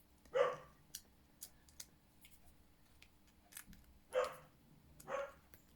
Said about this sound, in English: Can't believe my video has been hijacked by a little Dachshund dog.